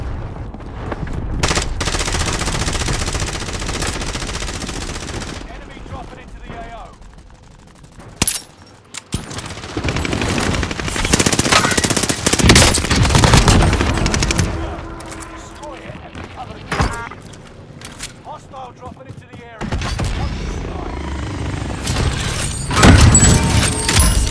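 Bursts of automatic machine-gun fire in Call of Duty Warzone, loud rattling volleys broken by short pauses, with players chatting over the shooting and a heavier barrage closing out the stretch.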